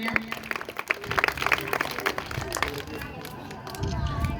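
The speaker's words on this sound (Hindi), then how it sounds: "जोरदार तालियां।" Applause from an audience at a school Independence Day program, steady dense clapping throughout with a voice speaking over it.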